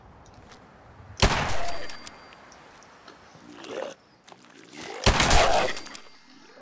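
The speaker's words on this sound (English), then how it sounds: "Gunfire somewhere." Two loud bursts of gunfire in the video game Fallout 4 crack out a few seconds apart, with quieter rumbling and scattered noises in between.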